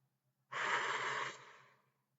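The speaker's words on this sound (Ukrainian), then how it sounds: "вдихаємо через ніс повітря, видихаємо через рот" A single close, breathy exhale lasts about a second after a quiet pause, then fades, as in a slow breath taken in through the nose and let out through the mouth.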